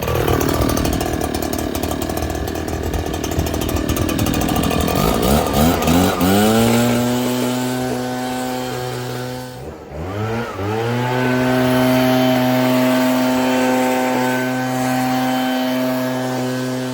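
An Echo handheld leaf blower with a freshly adjusted carburetor starts, revs high, then settles into a loud steady two-stroke idle that dips briefly and picks back up, close by, with no talk.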